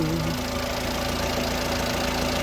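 The small engine of a 2002 Suzuki Jimny with 77,000 miles idles, a steady, even hum with faint rhythmic ticking, close up and unbroken, with no voices.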